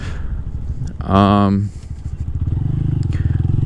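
A Honda Grom motorcycle engine gives a short loud rev, then settles into a close, rapid, steady putter while a rider talks over it.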